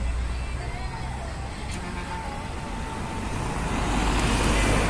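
Traffic, trucks among it, rolls past on a highway near a house between Zamboanga and Pagadian, a continuous rumble that swells toward the end.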